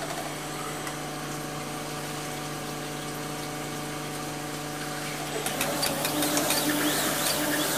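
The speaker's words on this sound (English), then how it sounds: "you can hear the stones on the surface finish of the rough bored cylinder" Sunnen cylinder hone stones work a rough-bored diesel cylinder with a steady mechanical whir and hum, and the grinding grows slightly rougher and busier near the end.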